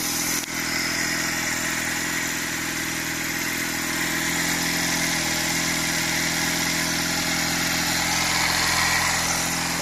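A 46-year-old Honda CD175 motorcycle engine runs at a steady, quiet idle throughout, an even low mechanical hum and tick heard up close with no voices.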